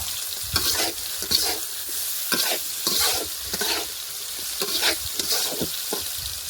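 Salted potatoes frying in a pan, a continuous loud sizzle punctuated by rhythmic stirring scrapes roughly every half second, close by and with no talking.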